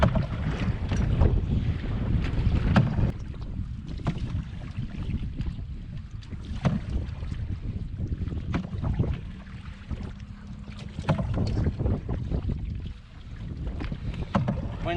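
Solo canoe paddling across a windy lake, with steady broadband wind rumble buffeting the microphone throughout and irregular splashy paddle strokes and water sloshing close by; no talking.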